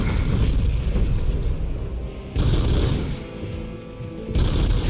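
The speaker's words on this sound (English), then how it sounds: "Oh, missiles." Missile explosions and heavy booming bursts from a RoboCop video game fight against an ED-209, loud and sustained, with two sharper surges of blasts standing out over a dense rumbling low end.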